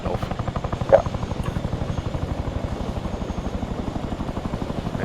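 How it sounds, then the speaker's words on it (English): A Chinook helicopter in the video game ARMA 3 flies with a steady, rapid rotor thump and an engine whine, a brief louder knock near the start, and no talk. "Let's see this Chinook stabilization."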